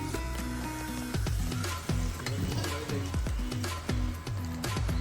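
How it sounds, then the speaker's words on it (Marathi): Cardamom, whole spices and bay leaf sizzle in hot oil in a kadai, close and steady, broken by regular scraping strokes of a stirring spoon against the pan. "आता कढईमध्ये थोडं तेल घेऊन मसाला वेलची आणि तमालपत्र घालूयात"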